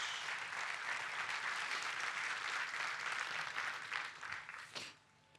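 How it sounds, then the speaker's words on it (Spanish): A church congregation claps during a sermon, a sustained moderate round of applause that thins out near the end and gives way to near quiet. "Denle un fuerte aplauso a Dios."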